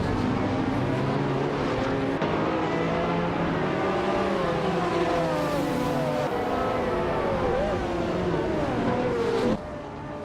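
Race cars in a racing video game roar and rev continuously as they overtake one another, engine pitch rising and falling in a dense, loud stream of motor noise with no pauses.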